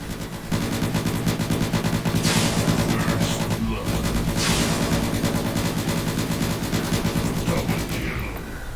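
Rapid machine-gun bursts fire almost without pause in the robot combat game World of Robots, dense and loud, with brief breaks and a few heavier impacts among the rattling shots.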